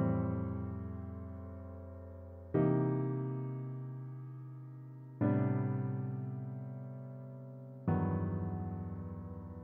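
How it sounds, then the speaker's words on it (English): A jazzy James Bond style chord progression built in Cubase, four sustained chords struck at even intervals, each ringing out and slowly decaying before the next, loud and alone with no voices. "Yeah, I would say it's already really jazzy, and you could use it as a James Bond music"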